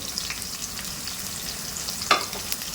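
Green onion whites sizzle and fry in a pan for fish mandi, a steady close hiss broken by a sharp scrape of the stirring spoon near the end, with no talking.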